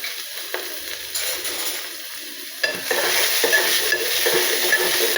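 Onion and asafoetida hit very hot oil in a pan, starting as a light sizzle and jumping to a louder, steady crackling fry partway through, close up with faint stirring and no voices.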